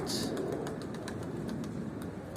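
Wings flap in a quick burst as a tumbler pigeon lifts off, with soft cooing and rustling nearby under a steady background hum.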